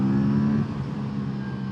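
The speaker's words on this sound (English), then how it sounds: "And you will notice it has a pretty nice induction noise." Aprilia twin-cylinder motorcycle engine giving a steady, loud induction roar with a low harmonic drone, easing slightly partway through as the revs settle, close-up and with no talk.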